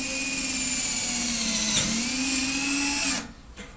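21V cordless impact drill driving a self-tapping screw into steel, a loud continuous motor whine with a pitch that sags and recovers under load, then stops abruptly near the end.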